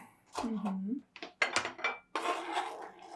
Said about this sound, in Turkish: biberimizi de doğrayalım.